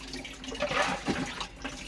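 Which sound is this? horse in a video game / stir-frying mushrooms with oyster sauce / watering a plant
watering a plant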